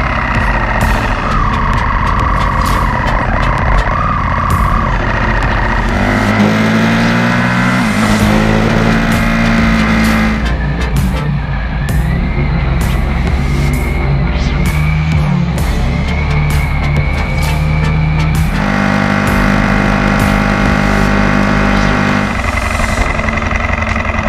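A Ducati Panigale V4 Speciale motorcycle engine roars continuously on a sunny coastal road ride, loud and close with wind rush, rising and falling through gear changes and revs.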